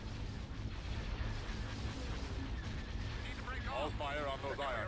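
Laser and cannon fire in the space battle video game Empire at War, dense continuous blasts and booming impacts filling the mix, with faint chirping effects near the end.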